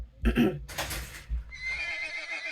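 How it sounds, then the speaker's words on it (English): A tall coal-black horse whinnies loudly and snorts, a close storytelling sound effect with a faint clip-clop of hooves, followed by a sustained whinny. "a high, coal-black horse who was pawing the ground and snorting"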